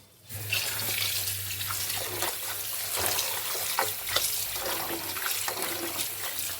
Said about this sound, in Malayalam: ഓക്കെ, നമുക്കിത് നന്നായി കഴുകി വാരിയെടുക്കാം